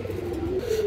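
A pigeon coos once in a soft, low, wavering call, close by and fairly quiet against a faint background.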